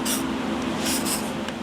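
Cleaner is sprayed into the mechanism of a Plycraft chair being restored, giving a few short hissing spray bursts over a steady low hum.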